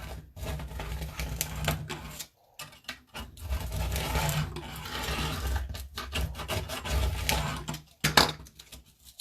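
A craft knife drawn along a ruler slices through corrugated cardboard from an Amazon box, making close, rough scraping cuts in repeated strokes with brief pauses, loudest near the end.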